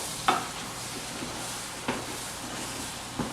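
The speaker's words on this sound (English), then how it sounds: "Now, let's get all this combined. Just keep stirring it" Melted butter mixture for rice crispy treats being stirred in a pot, with three soft spoon scrapes spaced about a second apart over a quiet, steady background hiss; no voices.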